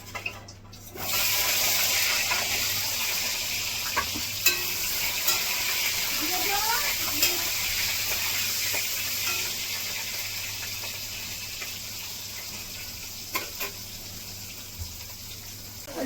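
Potato pieces frying in hot oil in a home kitchen while cooking egg curry, a steady bubbling sizzle that holds at an even loudness for the whole stretch, with occasional small pops and faint background noise.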